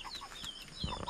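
Farm chickens cluck and chirp faintly at a distance in short, scattered calls over a quiet background.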